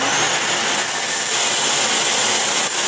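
Skate sharpening grinder runs steadily on a figure skate blade with a 1/2 inch radius, a continuous loud broadband whine with a thin high tone, close and without voices.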